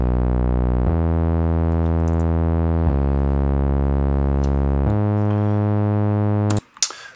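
Synth bass reference line played in Ableton, a sustained tonal bass part stepping through four held notes with changes near every two seconds, loud and steady, ending in a brief noisy burst.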